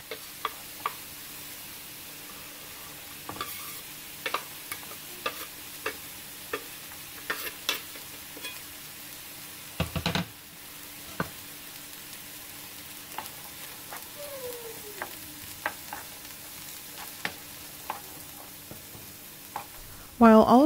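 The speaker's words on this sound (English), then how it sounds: "Once my mushrooms are nice and brown, I'm going to add my onions and poblano peppers." Mushrooms, onions and poblano peppers saute in a pan with a faint, even sizzle broken by scattered sharp ticks and taps of a utensil.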